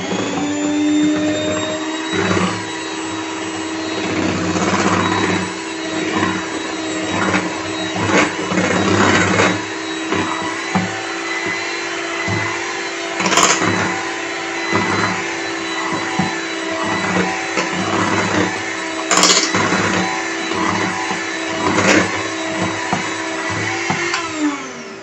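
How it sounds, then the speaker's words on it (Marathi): An electric beater whips cream and mango puree for mango ice cream with a loud, steady motor whine that runs the whole time, its pitch dipping slightly as the beaters work through the mixture. "आता आपण ह्या बीटरच्या मदतीने ही एकसाथ मिक्स करून घ्यायची आहे।"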